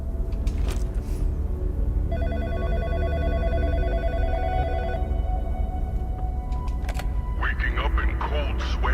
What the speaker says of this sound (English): where's the phone ringing?